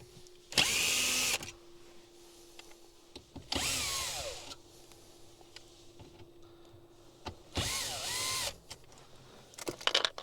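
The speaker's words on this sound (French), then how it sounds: "Vous enlevez les 4 vis." A power screwdriver backing out Torx screws from a Dacia Duster car radio, three separate whirring bursts of about a second each with quiet pauses between, close and fairly loud, over a faint steady hum.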